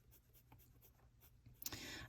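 A dull, unsharpened pencil shades on paper in soft, quiet, scratchy strokes in a repeating rhythm, ending with a brief louder rasp of heavier shading.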